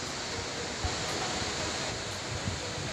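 Curug Guwung, a waterfall on a clean, fast-flowing river in the upper Bodri watershed, roars as a dense, steady wash of noise heard close by and alone.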